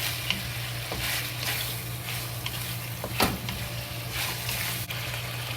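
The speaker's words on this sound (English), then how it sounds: "We add 1 tablespoon soy sauce to it and stir fry." Sliced beef sizzles steadily in a pot as it is stir-fried with soy sauce, with a spatula scraping and clattering now and then over the hot frying hiss.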